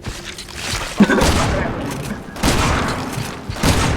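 Several loud bursts of gunfire break out in quick succession during a firefight, each burst sharp and dense, with voices talking between the volleys.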